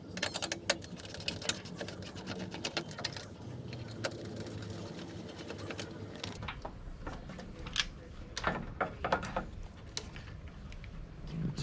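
Screwdriver working two lens screws loose on a 1996 Toyota Tacoma blinker, close scraping and clicking turns over steady background noise, with a sharp shift in tone partway through.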